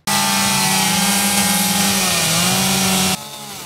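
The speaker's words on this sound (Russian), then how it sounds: "Идти на звук пилы" Chainsaw cutting wood at an international wooden sculpture festival, a loud, steady engine whine held for about three seconds before cutting off abruptly, with no voices.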